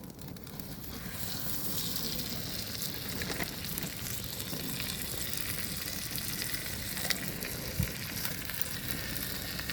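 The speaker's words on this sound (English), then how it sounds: "Sear these bad boys." Beef short ribs sear in hot butter in a pan, giving a loud, steady crackling sizzle throughout with occasional small pops and faint stirring sounds, close up and with no talking.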